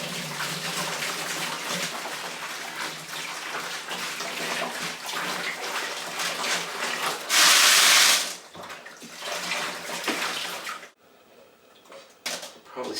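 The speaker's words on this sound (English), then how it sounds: "And we're gonna rinse them off here." Running water splashes and rattles over tumbled rocks being rinsed, with a loud burst of spray midway, then the flow stops and a few faint knocks follow.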